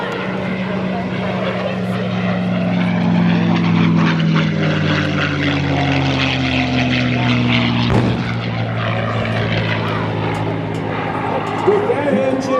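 A P-51 Mustang propeller fighter roars through aerobatics at an airshow, a loud sustained engine drone with shifting pitch as it passes, heard under continuous talk.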